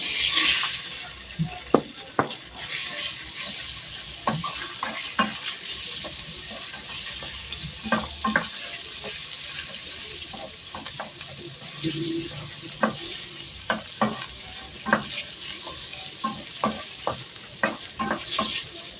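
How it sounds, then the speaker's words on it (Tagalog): Pork loin sautés in oil in a pan, a steady close sizzle broken by frequent sharp clacks of a utensil stirring and scraping the pan. "igisa muna natin ang ating pork lomo"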